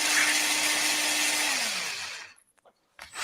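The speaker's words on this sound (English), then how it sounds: "it's an electric drill" A handheld electric drill whirs loud and steady for about two seconds, then winds down in falling pitch and stops, followed by near silence and a short burst of noise at the end.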